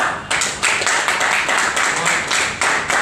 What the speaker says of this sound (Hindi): पहले हमारे साथ में तालियां हो जाए